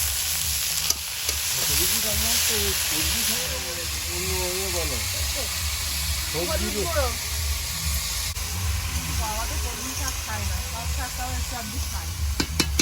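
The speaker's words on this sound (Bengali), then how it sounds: "কড়াই তেল দিয়ে দেবো এবার শাকটা ভেজে নেব" Water spinach (kalmi greens) sizzles and hisses steadily in hot oil in a wok close by, with a low hum underneath while a person talks over the frying.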